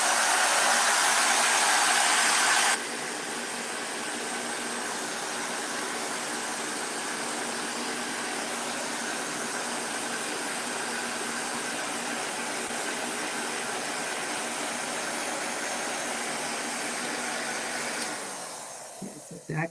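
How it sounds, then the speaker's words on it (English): A handheld heat tool, used like a blow dryer, blows steadily to dry a craft project, a loud continuous airy whoosh that starts at full strength, drops to a lower steady hum after a few seconds and cuts off near the end. "I'm just going to use my blow dryer,"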